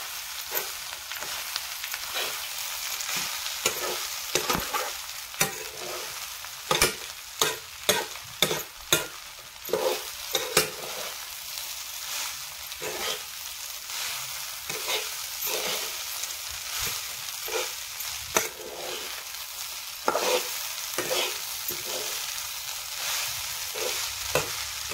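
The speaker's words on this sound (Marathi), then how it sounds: "आपण वरून पोहे सोडून देऊ। आता चांगलं हलवून घेऊ आपण याला।" Poha frying in oil for kande pohe is stirred repeatedly, sharp spoon scrapes and knocks recurring in irregular bursts over a continuous soft sizzle, close and alone.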